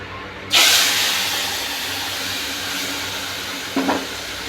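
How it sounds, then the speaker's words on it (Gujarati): Spices for a vaghar tempering hit hot oil for a potato and cluster bean curry, bursting into a loud, sudden sizzle that slowly fades to a steady hiss, with a brief second flare near the end. "તો હવે આપણે વઘાર કરીશું."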